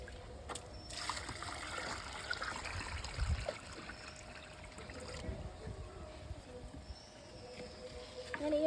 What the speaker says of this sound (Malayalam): അത്രയും ഭാഗത്ത് വെച്ചിട്ട് നമ്മൾ വെള്ളം ഒഴിച്ച് കൊടുക്കണം